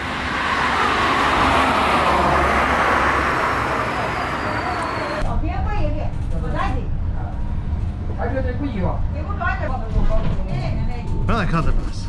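A city bus in China, heard first as a loud, broad traffic and engine roar that drops after a few seconds to a lower hum under talking voices.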